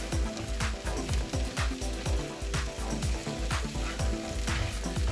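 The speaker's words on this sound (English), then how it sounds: "Keep stirring the tomato and onion mixture." Tomato and onion mixture stirred in a pan, with a steady sizzle and rhythmic repeated scraping strokes close by, about two per second, with no talking.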